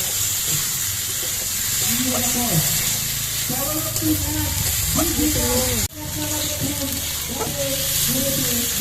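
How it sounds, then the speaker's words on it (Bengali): Onion, slit green chili, chopped tomato and spices sizzling in a pan, a steady loud fry with stirring scrapes throughout and a brief clatter near the end. "এবার সব কিছু দিয়ে মশলাগুলো কিছুক্ষণ কষিয়ে নিতে হবে"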